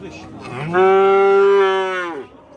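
At a cattle market, a cow gives one loud, close, drawn-out moo lasting about a second and a half, rising at the start and sliding down at the end.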